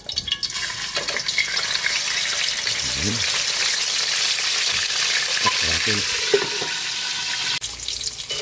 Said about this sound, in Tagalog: Magpiprito na po tayo ng ating isda.